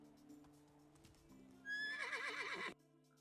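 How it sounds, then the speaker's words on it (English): A horse in the medieval survival game Medieval Dynasty lets out a loud, wavering whinny lasting about a second, preceded by faint soft hoof sounds and ambient game background. "Let's call the horse over and dump a load of stuff on them."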